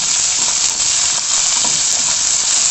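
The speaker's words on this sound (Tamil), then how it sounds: "இப்போது அரிஞ்சு வச்சுருக்கிற முருங்கைக்காயும் கத்திரிக்காயும் போட்டு நல்லா வதக்கிடுங்க" Drumstick and brinjal pieces sauté in hot oil in a pan for kara kuzhambu, a loud, close, unbroken hiss of frying with faint stirring underneath.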